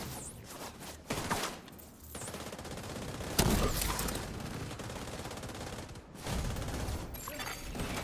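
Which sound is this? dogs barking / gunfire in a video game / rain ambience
gunfire in a video game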